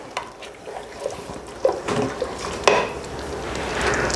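Panang curry with beef short rib cooking in a pot, a soft bubbling simmer broken by utensil clinks and stirring scrapes against the pot, with a faint steady hiss underneath and no talking.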